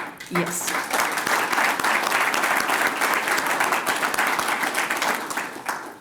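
A crowd at a clubhouse ribbon-cutting applauds the county commissioners. The loud, continuous clapping swells quickly after a brief spoken moment and holds steady for several seconds, with talk faintly underneath.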